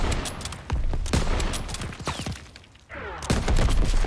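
Gunfire in Call of Duty WWII: rapid, loud bursts of rifle and machine-gun shots crackle in clusters, a brief lull, then another volley, with no voices.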